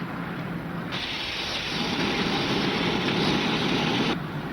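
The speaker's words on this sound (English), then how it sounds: "He's bleeding off his steam." A standing steam locomotive blows off steam in a loud, steady broadband hiss that swells after the first second and holds for about three seconds over a low engine rumble, then eases back.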